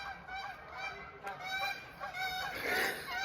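A flock of geese honks loudly and continuously at fairly close range, with overlapping calls and no voices.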